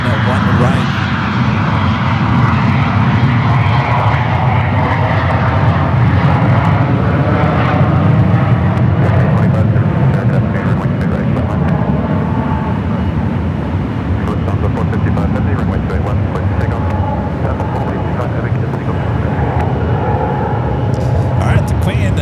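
An airliner rolls down the runway at San Francisco airport with a loud, steady roar of engines that holds throughout, while voices talk over the noise.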